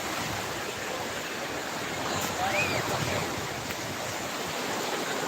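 A steady wash of surf and wind noise fills the scene, with a faint engine-like hum of a fishing boat somewhere out on the water.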